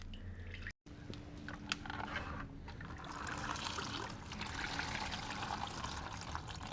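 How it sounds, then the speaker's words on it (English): Fuel trickles and splashes steadily as it drains from the tank of a 2008-2014 Subaru WRX, a continuous close, wet dribbling stream that grows a little fuller partway through. "This thing's got a bunch of fuel in it I'm going to have to drain out."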